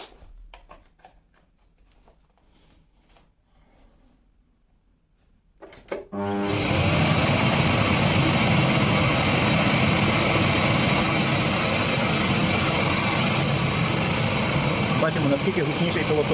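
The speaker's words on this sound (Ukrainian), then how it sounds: "вмикаємо його в розетку і будемо міряти шум пилососа" A few seconds of near-quiet with faint ticks, then a vacuum cleaner powered from a battery inverter switches on and roars loudly and steadily to the end, measured at 78 dB.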